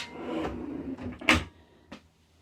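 A drawer in a Storyteller HILT RV slides open with a few close wooden knocks and rattles, then clunks sharply as it locks in place, followed by one softer click.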